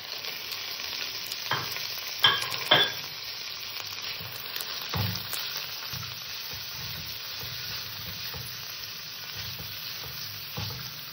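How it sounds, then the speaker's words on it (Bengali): Marinated mutton frying in a pan, a steady quiet sizzle with a few sharp stirring scrapes and clicks near the start and occasional later knocks. "মাংসটা আমি সুন্দর করে ফ্রাই করে নিয়েছি"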